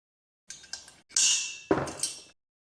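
A couple of sharp metallic snaps with a brief bright ring as a cheap center punch marks metal, close up and fairly quiet, surrounded by silence.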